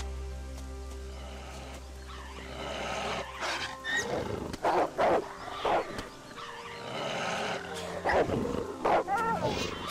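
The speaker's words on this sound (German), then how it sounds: "Wir müssen helfen. Wildschwein versus Wolf." A wild boar and a wolf fight in Gothic 3, with snarls, grunts and squeals coming in short loud bursts over ambient game sound, while someone talks.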